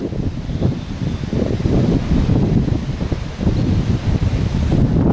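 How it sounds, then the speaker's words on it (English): Continuous blustery wind sweeping through leaves, a broad rushing rustle with gusts that rise and fall, heavy buffeting close to the microphone. "you can see the leaves all blowing"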